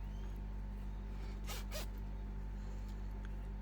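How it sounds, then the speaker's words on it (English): A zipper pull slides along zipper tape while a fabric crossbody bag is being sewn, making two quick close rasping zips over a faint steady hum. "you will have to move the zipper pull out of the way"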